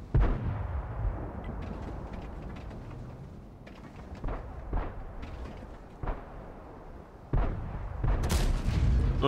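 Heavy tank cannon shots and explosions from World of Tanks gameplay, an IS-6 battle, booming repeatedly over continuous rumbling battle noise, with a loud burst of blasts near the end.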